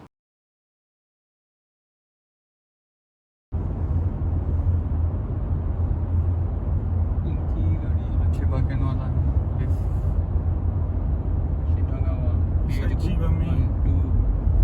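Heavy car traffic packed inside a road tunnel, backed up by an accident ahead, sounding as a steady, dense low rumble that starts suddenly after a few seconds of silence and continues unbroken, with faint higher clatter on top.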